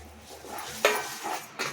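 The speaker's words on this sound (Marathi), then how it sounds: "आता यामध्ये आपण तीळ भाजून घेतले ते घालून घेणार आहोत" Roasted sesame seeds going into thick jaggery syrup and being stirred for tilgul vadi: a brief, close scrape and clink of a spoon against the pan, repeated a couple of times over a soft background hiss.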